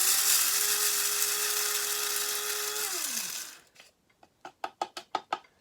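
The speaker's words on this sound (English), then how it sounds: "Gonna grind it up." An electric grinder grinding flaxseed: a loud steady whirring hum that winds down in pitch, then a run of short sharp taps and knocks, close up with no talking.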